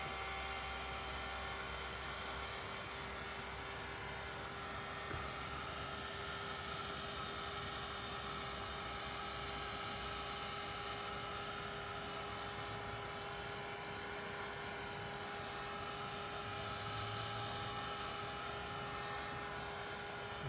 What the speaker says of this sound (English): I'm going to hit those with the heat gun just to set the color a little bit